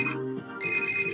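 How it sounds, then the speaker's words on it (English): A cell phone ringtone in the video game Persona 4 Golden chimes as a bright, sustained electronic tone that shifts pitch partway through, clear and steady with no talking. "Naoto's cell phone is ringing."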